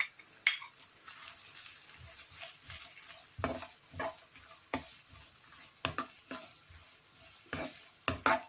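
Carrots stir-fry with garlic and ginger in a pan, giving a soft sizzle under repeated spatula scrapes and clinks against the metal.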